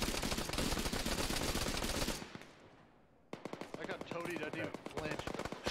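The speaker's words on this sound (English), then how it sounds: "MMG's gonna be firing over your guys' heads." A medium machine gun firing in the video game Arma, loud rapid bursts of automatic fire, a brief pause, then more fast, sharp volleys with faint voices underneath.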